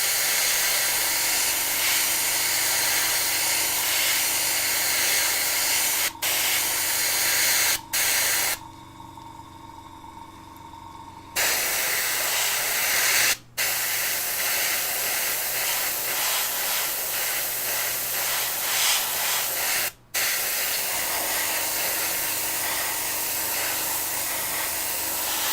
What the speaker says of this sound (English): this compressor is only 2 litres of storage, so it will be turning on and off quite frequently